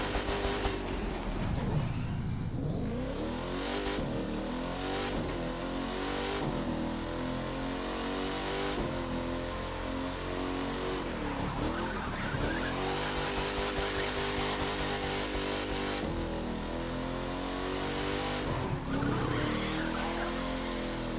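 Dodge Demon race car in a racing video game, engine roaring and revving steadily throughout with repeated tire squeals and skids as it corners hard.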